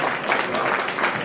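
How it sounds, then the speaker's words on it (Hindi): An audience at a Kanpur medical reunion gathering claps loudly in a brief, dense burst that fills the hall, with no talk over it. "जोरदार तालियां हो जाए एवरीवन"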